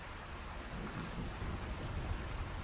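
Steady heavy rain pours down in a dense, even hiss with a low rumble of thunder underneath, constant and enveloping throughout, with no voices.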